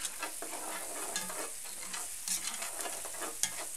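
Onions being stirred through browning brown sugar in a pot for brown stew chicken, a soft continuous sizzle with repeated scraping stirs, fairly quiet and without talk.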